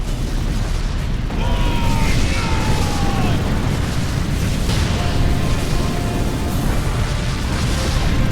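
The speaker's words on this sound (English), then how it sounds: "the slave ships also start bombarding the planet as well" Bombardment of a planet by slave ships in the space strategy game Sword of the Stars: a loud, continuous rumbling barrage of booms and blasts with whining tones layered on top, sustained throughout.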